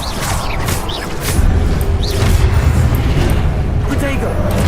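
Confringo fire spell explosions in Hogwarts Legacy, the game's fiery blasts rumbling loud and low with booming bursts and crackle, mixed under constant voice chatter and game music throughout.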